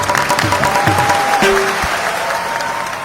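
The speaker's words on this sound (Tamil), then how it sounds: "கைதட்டுங்கோ." A Tamil Christian audience at a Christmas villupattu performance claps together, a steady wash of applause filling the room, with brief tonal music and voice fragments near the start.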